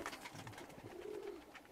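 Tumbler pigeons offered for sale coo and flutter close by in a short burst of soft, low calls, with no talking.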